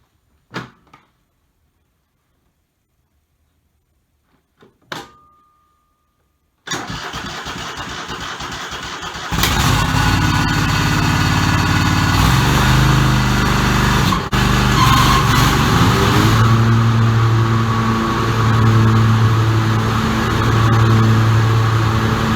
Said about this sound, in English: pull the PTO button out, engaging the electric clutch that's on the PTO drive, starting the mower deck